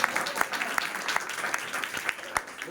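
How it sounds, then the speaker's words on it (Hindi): A church congregation claps loudly during a Hindi-language sermon, a dense spatter of many hands with scattered sharper claps over a short stretch, close and steady. "जोर से ताली बजाइए।"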